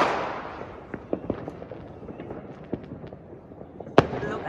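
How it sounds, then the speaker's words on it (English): New Year's Eve fireworks in a residential area of Germany, heard as scattered sharp cracks and pops, mostly at a distance and fairly faint, with one louder bang near the end over a continuous crackling background. "So there's only the fireworks here."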